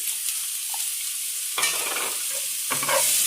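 Chopped onions frying in a pan for a gongura egg curry, a steady close sizzle with two sharp stirring scrapes partway through, no voices.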